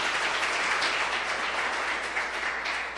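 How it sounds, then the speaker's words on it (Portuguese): A church congregation applauds during a worship service, a continuous dense patter of clapping at steady volume filling the room from start to end. "vamos aplaudir esse Deus maravilhoso"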